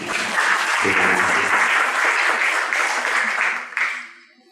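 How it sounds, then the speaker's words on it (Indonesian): A church congregation claps and applauds together in praise of God, a dense, loud burst of sustained clapping that carries on for several seconds before tapering off, with a voice briefly heard beneath it. "Berikan tepuk tangan yang mulia bagi Tuhan."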